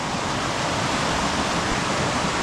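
Mountain waterfall on a stream in a Romanian valley near Cormaia, a loud, steady, unbroken rush of falling water filling the whole clip with no voices.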